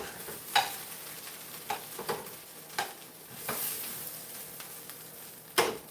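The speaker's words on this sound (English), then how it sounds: "I can hear it sizzling." Food sizzling in a frying pan: a steady hiss of hot oil broken by sharp scrapes and taps of a utensil moving the pieces around.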